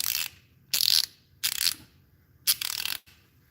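A thin-head ratchet wrench clicks in four short bursts separated by brief pauses, crisp and close, with no talking.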